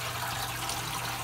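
Water from a reef tank's main display pouring down through the sump plumbing and a UV sterilizer, a steady close rushing trickle with a low hum beneath, continuous and with no voices.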